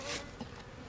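Bees mill around a weak beehive, giving a brief, faint buzzing hum close at hand with no talking.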